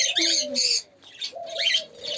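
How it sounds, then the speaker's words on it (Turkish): Several loud, harsh parrot calls in quick succession, squawking and chirping with short pauses between bursts, close by. "burada da papağanlar var"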